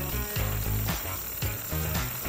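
A hammer drill bores a pilot hole into concrete with a pilot bit, a loud, harsh, pulsing rattle that surges in repeated bursts about every half second, close and alone.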